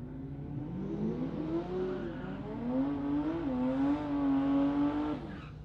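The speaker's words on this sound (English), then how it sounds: "Just blows the old tyres off Troy Hewitt." A drag racing car roars off the line at Warwick Dragway and accelerates down the strip, its engine pitch climbing through gear changes at a fair distance before cutting off.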